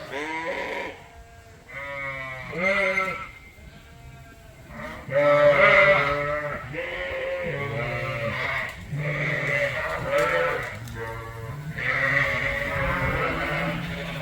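Several sheep bleat again and again, their calls overlapping in a loud, steady chorus with hardly a pause.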